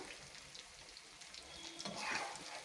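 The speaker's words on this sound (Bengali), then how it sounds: "ফুলুরিগুলো 2 মিনিট ধরে ফুটছে।" Quiet, continuous bubbling and sizzling of palm fruit fritters frying in oil, with soft crackles rising slightly toward the end.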